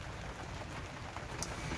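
Rain patters on a roof at an allotment plot as a soft, even hiss with faint scattered drops and no talking.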